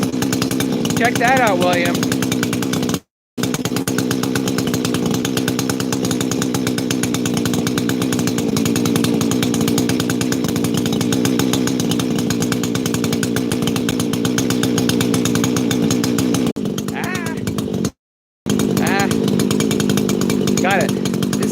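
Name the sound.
chainsaw running during heat cycling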